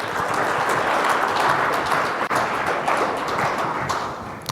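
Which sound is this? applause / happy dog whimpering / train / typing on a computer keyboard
applause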